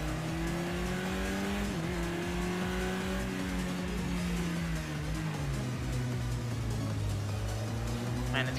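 A racing car engine revs and drones steadily in a VR driving game, pitch dipping as it slows, with a sharp crash impact near the end.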